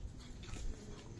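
A pug whimpers in short, soft bursts close by during a night walk, with faint footsteps and outdoor background noise.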